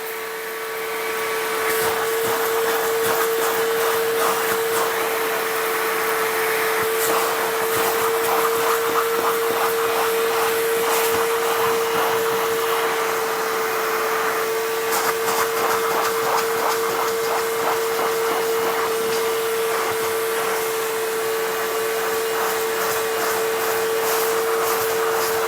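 A Bissell Little Green ProHeat portable carpet cleaner switches on and runs with its spray trigger held, cleaning a mattress. A steady motor hum with a strong tonal whine starts early and continues loud for the whole stretch, with faint rattling textures alongside.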